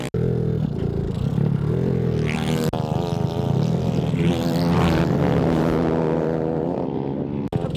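A racing kart engine drones loudly and steadily nearby, its pitch wavering and climbing as it runs, with no speech over it.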